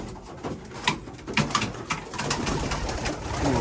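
Racing pigeons in a home loft cooing softly, with several overlapping low coos and rustling at close range and no talk.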